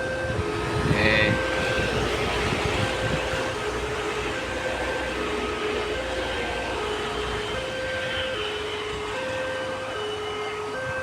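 The Ranggajati train rumbles past a level crossing at JPL 92A Sukomoro in a steady, broad roar, with intermittent tonal squeals or horn-like notes over the continuous noise.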